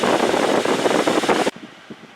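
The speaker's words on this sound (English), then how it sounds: "at the 2 top speeds, this is the noisiest air conditioner I've ever had." A 2021 Mazda CX-9's air conditioner fan runs at top speed, a loud, dense rushing roar of air close by that cuts off abruptly partway through, leaving near quiet.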